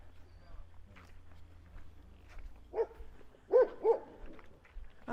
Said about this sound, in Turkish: Bu da dün oynadıkları köpek.